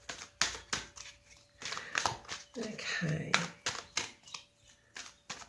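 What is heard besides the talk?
shuffling Spirit Oracle deck cards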